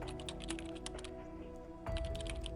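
Rapid clicking of a computer keyboard as a chat message is typed, close and continuous with a short burst of denser keystrokes near the end.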